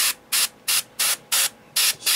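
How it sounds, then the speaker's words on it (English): An airbrush or spray can puts mud-effect paint onto model vehicle wheels in five or six short, even hissing bursts. The bursts are separated by brief pauses and are fairly loud and close. "spray some of the mud"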